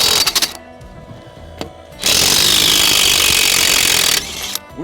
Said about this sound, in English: I got the DeWalt tool on this one, and we'll see if it holds any air